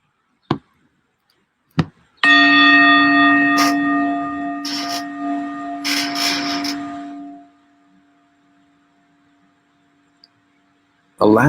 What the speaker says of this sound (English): Allow the bell to take you a little deeper